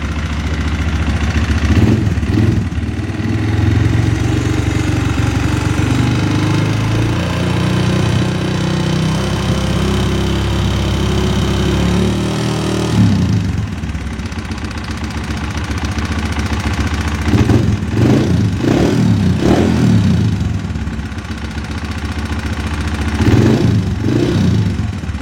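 A Honda CRF 150 motorcycle with a rough-sounding engine and a loud exhaust idles close by, settling into a steady low chug before several sharp revs rise and fall in quick bursts, with no talk.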